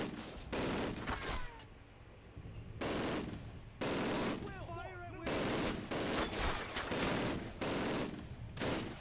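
Loud automatic gunfire from a gun in a video game sounds in several sustained bursts of rapid shots, with brief quieter gaps and faint game effects between them.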